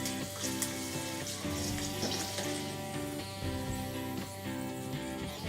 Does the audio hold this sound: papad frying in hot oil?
yes